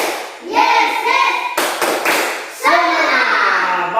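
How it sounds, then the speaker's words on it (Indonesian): A class of children performs a rhythmic 'tepuk semangat' clapping cheer, bursts of hand claps and voices filling the room in patterned groups, loud and close, with chanting mixed in. "Ayo dulu tepuk semangat."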